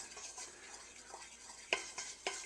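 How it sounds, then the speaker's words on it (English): Copper-colored roux for gumbo being stirred in a pot, soft scraping strokes with a faint sizzle beneath and a few sharper clinks of the utensil against the pan. "So we're just going to stir it up a bit to make sure it's well mixed."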